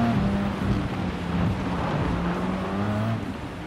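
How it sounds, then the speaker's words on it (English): Mustang and NSX rally cars racing on a dirt course in Gran Turismo 7, with a steady, loud engine drone and tire rumble throughout, engines holding revs under a constant roar, no talk. "A Mustang rally car and an NSX rally car."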